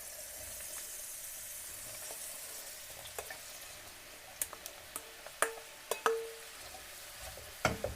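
Button mushrooms frying with onion in a pan give a soft, steady sizzle, broken by a series of sharp spatula taps and clicks in the second half.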